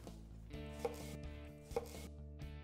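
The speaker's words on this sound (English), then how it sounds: "Now we'll mince the celery." Knife mincing celery on a cutting board, a few soft chopping taps in a quiet kitchen, faint and close, with no talking.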